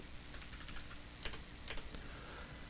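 Faint, quick keystrokes on a computer keyboard as a folder name is typed, a few brief clusters of clicks over a steady low background hum.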